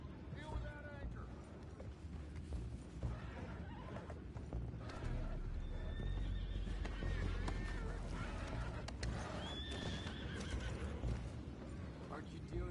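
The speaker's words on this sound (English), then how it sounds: "Go find out about those horses down below" Horses whinny and neigh in Red Dead Redemption 2, several rising calls coming through over hoof clip-clops and a busy game soundscape, with voices talking throughout.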